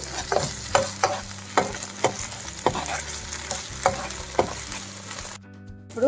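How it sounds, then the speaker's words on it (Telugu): A spoon scrapes a pan in regular strokes over a steady sizzle of garam masala frying, ending with a brief hiss and clatter. "ఇవి కూడా పచ్చివాసన పోయేదాకా వేయించుకోండి"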